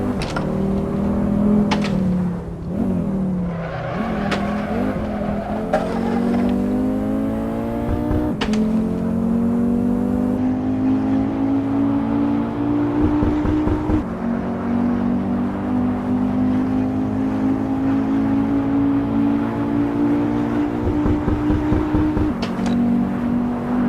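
A Volkswagen Golf Mk7 engine in the racing game Assetto Corsa whines and revs continuously, pitch climbing and dropping with quick tapping gear changes and brief cuts, loud and close throughout.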